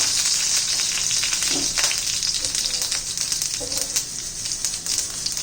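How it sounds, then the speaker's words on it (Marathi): Mustard seeds and curry leaves sizzle in hot oil as a tempering is made, a bright, dense crackle that holds steady with a few louder spits and pops, close to the pan, with no talking. "आता हे फोडणी घेऊया आपण मोहरी घातली आहे"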